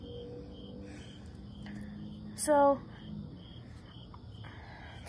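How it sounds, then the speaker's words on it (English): A cricket chirps in repeated short, high trills, faint and fairly close, while a person speaks briefly over it near bess beetles, hornworms and a millipede. "Oh, the chirping is continuing. Okay, so I guess it was just a cricket"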